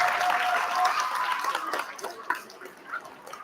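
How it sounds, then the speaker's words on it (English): School assembly audience clapping for honored students, a round of applause that fades over a few seconds, with chatter and a brief tone early on. "Let's give them a round of applause."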